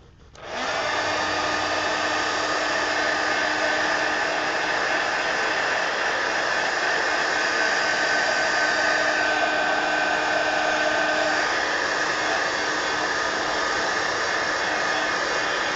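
A hair dryer blasts steadily over an inky background painting, a loud continuous whoosh that starts abruptly and holds unchanged for about fifteen seconds, with no talking.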